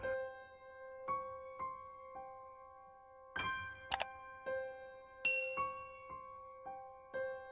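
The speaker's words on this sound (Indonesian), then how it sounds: "nyalain juga lonceng notifikasi supaya kalian gak ketinggalan" A bright notification bell chime rings in a repeating sequence of clear metallic dings, each decaying quickly, with a few louder sparkly strikes mid-sequence, heard alone without talk.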